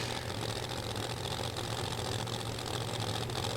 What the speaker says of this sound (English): a Mike Janis supercharged Hemi built by Mike Janis on the starting line right now